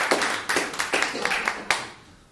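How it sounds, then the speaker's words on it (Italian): A short burst of hand clapping from a small group at a talk or gathering, uneven and fairly close, fading out after about two seconds. "Un applauso anche a..."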